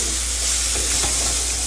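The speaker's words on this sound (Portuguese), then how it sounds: "Hora de refogar a carne de sol." Sun-dried beef (carne de sol) sizzles steadily in melted butter in a pan, a loud, continuous frying hiss with a faint stir near the middle and no talk.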